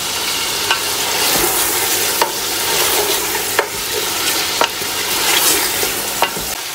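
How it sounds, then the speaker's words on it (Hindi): Chicken pieces frying with onion, garlic and ginger for chicken korma pilau make a loud, dense, continuous sizzle, with rhythmic spatula scrapes about once a second. "पाँच से छः मिनट तक चिकन को अच्छी तरह फ्राई करना है ऑनियन और गार्लिक जिंजर के साथ।"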